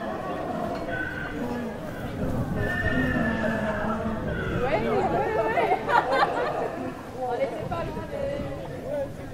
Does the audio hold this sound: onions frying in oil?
no